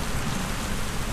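Steady heavy rain pours without a break, a dense even hiss that fills the whole clip with no voices.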